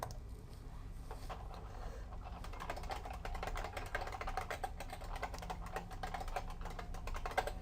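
Rapid, uneven clatter of fingers typing a password on a computer keyboard, keystrokes tapping close and steady for several seconds over a low hum, with no one speaking.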